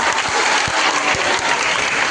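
An audience of trainee teachers at a college comedy event breaks into dense, continuous applause for a student about to sing, a steady crowd of hand claps throughout.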